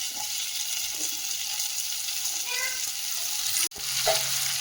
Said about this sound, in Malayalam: മഷ്റൂം കൂടെ ഒന്ന് ഇളക്കി വേവിച്ചിട്ട് കൊടുക്കാം.